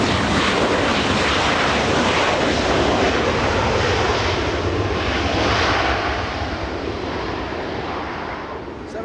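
An airliner arriving at Los Angeles International Airport from Sacramento, California, its jet roar loud and continuous, slowly easing off toward the end.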